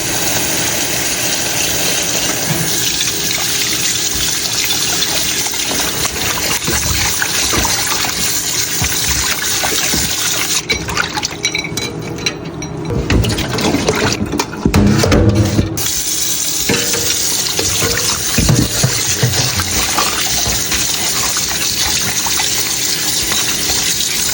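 Running water gushes steadily and loudly from a tap as beef is washed with vinegar, with a continuous splashing rush and a few louder surges of water against meat and bowl partway through.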